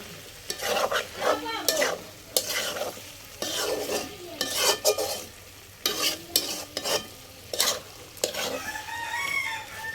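Potatoes cooking in a pan on a home stove are stirred vigorously, giving rhythmic scraping and clattering bursts over a steady sizzle, with a rooster crowing faintly nearby.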